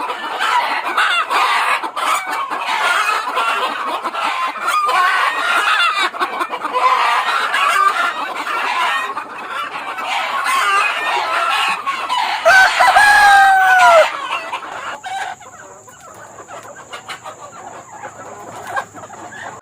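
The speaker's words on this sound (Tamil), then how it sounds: "கடைசியாக அந்த சேவல் கூவிடுச்சுன்னா அங்கேருந்து ஆபத்தெல்லாம் முடிஞ்சு போச்சுன்னு அர்த்தங்க" A rooster crows loudly near the end, after a long stretch of dense, close clucking from a flock of chickens. No one speaks.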